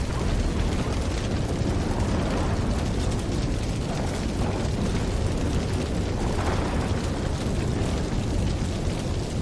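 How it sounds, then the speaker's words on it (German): A prairie wildfire roars at the height of the dry season, giving a dense, loud, continuous rumbling blaze with crackling bursts and no voices. "Wenn die Trockenzeit ihren Höhepunkt erreicht, lodern in der Ferne Feuer auf."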